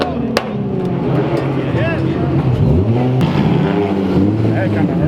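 A car with a Nissan VQ engine drives past at a car meet, its engine note sweeping up and down loudly as it passes close by, with people talking over it and other engine noise around.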